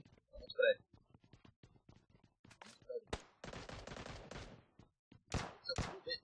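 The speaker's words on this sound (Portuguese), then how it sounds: "Tem tiro atrás." Scattered gunshots crack in short bursts in PUBG Mobile, some sharp and close, others faint, mixed with talking voices over game sounds.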